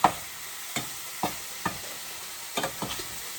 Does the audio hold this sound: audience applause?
no